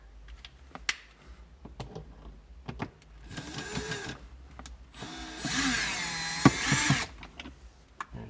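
Screws being backed out of the glove box in a Land Cruiser cabin, with close, intermittent clicks and ratcheting taps and a couple of longer whirring, rattling bursts in the middle.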